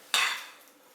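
A single quick scrape of a utensil through soda bread ingredients in a bowl, a bright swish that fades over about a second.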